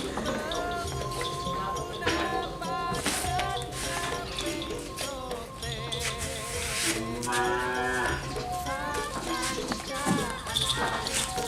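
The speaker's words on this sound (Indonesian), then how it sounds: "Teman-teman, sapi yang kecil." Kerapan racing bulls and smaller cattle low repeatedly at a bathing spot, several moos rising over a busy mix of people talking and hooves shuffling close by.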